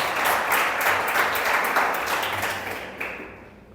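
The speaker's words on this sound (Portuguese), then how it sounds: "Dê um forte aplauso ao Senhor por isso." A church congregation gives a strong round of applause to the Lord, a dense burst of clapping that swells and then tapers off near the end.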